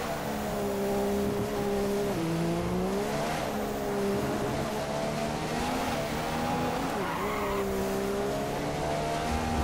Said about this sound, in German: Da sind die Reifen wieder stehen geblieben